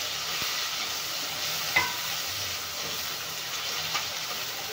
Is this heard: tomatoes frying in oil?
yes